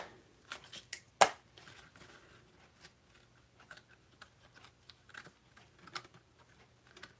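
Scissors snip through paper while folding a Prairie Grass craft piece, a few sharp close cuts near the start followed by quieter scattered rustles and small handling clicks.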